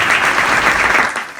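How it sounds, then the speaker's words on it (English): An audience breaks into applause, a dense, loud burst of many hands clapping at once that holds steady, then fades toward the end, with no voices heard. "Everyone, can we have a big round of applause?"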